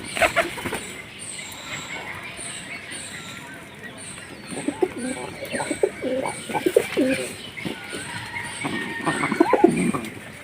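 Pigeons coo in a loft or yard, soft throaty calls repeating among rustling and scattered noise, with a faint high tone running through and some low background murmur.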